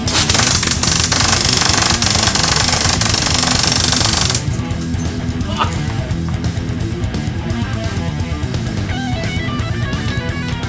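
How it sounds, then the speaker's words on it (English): An airsoft microgun fires BBs at a modular helmet in a fast, continuous buzzing stream, loud and close for about four seconds before it cuts off, leaving a quieter mechanical clatter. "If I kept going at that until I've got no more BBs left in this microgun"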